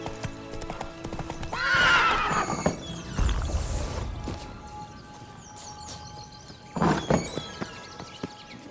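In the video game The Witcher 3, a horse's hooves clip-clop at a gallop, and the horse gives a loud, shrill neigh. A second whinny follows later over the hoofbeats.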